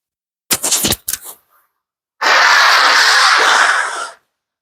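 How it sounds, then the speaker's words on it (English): A person blowing their nose, a few short sharp bursts followed by a longer sustained loud honking blow, close up. "Excuse me for blowing my nose."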